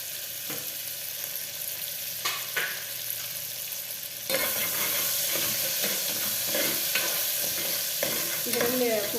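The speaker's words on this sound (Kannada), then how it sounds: "ಇದಕ್ಕೆ ಮೆಣಸಿನ್ಕಾಯಿ ಹಾಕೋಣ ಫಸ್ಟು." Finely chopped green chillies are added to hot oil in a deep pressure cooker for peas upma. A faint sizzle with stirring scrapes jumps to a louder, steady frying crackle partway through.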